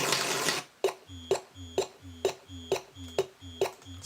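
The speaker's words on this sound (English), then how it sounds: "this is the sound of a aerosol can, and they're shaking it and then spraying it on the wall" A short hissing aerosol spray burst gives way to a steady run of seven or eight bit-crushed, lo-fi rattling knocks, evenly spaced as an aerosol can is shaken.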